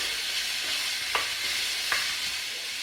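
Pieces of goat meat sizzle and fry in a hot pan with a steady hiss, broken by two brief scrapes or stirs, and no one speaks.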